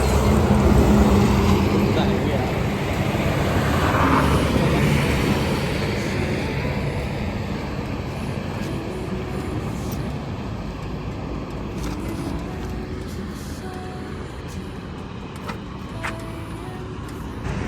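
A motorcycle's engine drones steadily on the road, with a constant rush of wind and traffic noise and a voice talking now and then.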